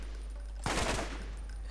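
A burst of gunfire in the video game Borderlands, a single short rattling volley over a steady low background hum, with no talk during it.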